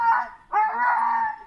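A sled dog howls in two drawn-out, wavering cries, the second longer and sustained, close and clear with no talk.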